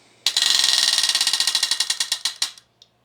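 A numbered project wheel spun by hand, giving a rapid run of sharp plastic clicks that slow steadily and stop after about two seconds, close and alone.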